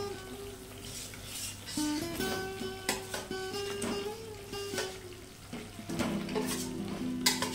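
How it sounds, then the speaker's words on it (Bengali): Fried potatoes are stirred into a spiced masala for a milk-based paneer curry, giving a steady sizzle broken by scraping spatula strokes, with a faint tonal hum running underneath throughout. "আলুগুলো দিয়ে আরো 1 মিনিট মতো কষে নেব।"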